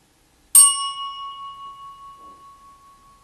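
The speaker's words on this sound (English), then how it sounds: "I'm just going to hit a little gong" Improvised gong, a household object standing in for one, struck once: a sharp bright hit followed by a long clear ringing tone that slowly fades with a gentle pulsing shimmer, alone in silence.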